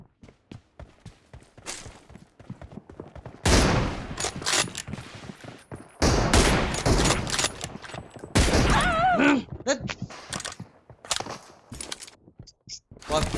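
Repeated gunfire bursts in a BGMI team deathmatch, with loud automatic volleys broken by shorter gaps and footsteps, while a voice comes in briefly.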